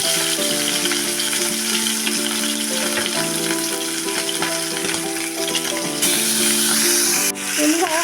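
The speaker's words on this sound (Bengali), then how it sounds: "এবার আমি মাছগুলোকে ভেজে নেব বন্ধুরা কড়াই আমি তেল দিয়ে দিয়েছি" Fish fries in oil in a wok with a steady, dense sizzle throughout, heard under sustained background music.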